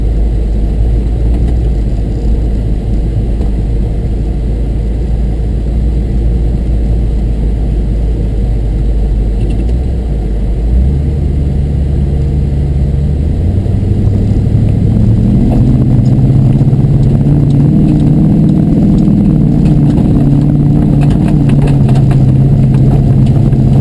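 A 2013 off-road truck on a snowy winter trail ride: a loud, steady engine rumble that rises in revs and pitch midway as the truck climbs a hill, continuing strained and droning to the end.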